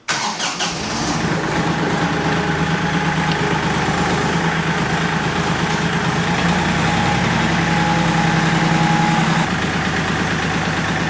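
A tractor used for dirt moving starts up with a brief cranking burst, then settles into a steady, loud, close diesel idle with a constant low rumble and no talk.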